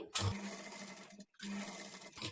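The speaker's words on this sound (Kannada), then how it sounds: "ಈಗ ಇಲ್ಲಿಂದ ಲೈನಿಂಗ್ ಮೇಲೆ ಎಜ್ಜಿಗೊಂದು ಟಾಪ್ ಸ್ಟಿಚ್ ಹಾಕ್ಕೊಳ್ಳಿ" A sewing machine runs a top stitch along the lining edge in two short, steady whirring bursts split by a brief pause, close and quiet.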